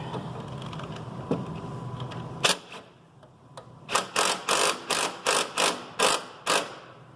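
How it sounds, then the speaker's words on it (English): Allen key bit turned with a 9/16 wrench to tighten a treadmill motor mount: a run of about nine sharp, evenly spaced ratcheting clicks, close and clear, following a short stretch of low mechanical hum. "And I'll use my 732 Allen key bit with my 9/16 wrench to tighten it."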